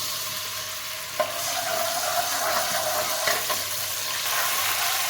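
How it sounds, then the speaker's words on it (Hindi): Ginger garlic paste sizzles steadily in hot oil, with occasional clinks and scrapes of stirring in the pan. "ऑयल ज़रा गर्म हो चुका है। ये मेरे पास अदरक लहसुन का पेस्ट है और मैं इसमें शामिल करूँगी।"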